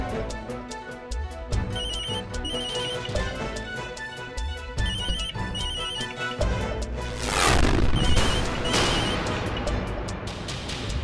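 A mobile phone rings in a repeating electronic ringtone over dramatic background music, with a crashing swell later on; no speech.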